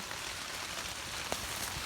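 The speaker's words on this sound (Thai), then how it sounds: "ฝนก็ตกบัดนี้" Steady, dense hiss of rain falling, constant and fairly close, with an occasional louder drip standing out.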